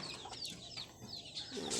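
A red backyard chicken clucking softly in repeated short calls, faint and close, with no talk over it.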